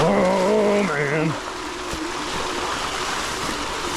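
An e-bike splashes through water and mud along a farm pivot track, a rushing wet spray with a motor whine and a voice over the start.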